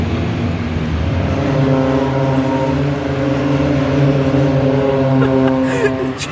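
A massed field of 147 race cars pulls away at a race start, their engines merging into a loud, continuous droning roar with steady tonal whines that holds throughout, swelling slightly toward the end.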